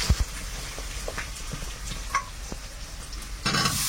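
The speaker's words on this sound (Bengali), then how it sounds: "হালকা একটু নেড়ে চেড়ে ভেজে নিই।" Chopped onion and crushed garlic fry in a pan, a soft continuous sizzle broken by light scraping taps of a stirring spatula, with a louder burst of frying near the end.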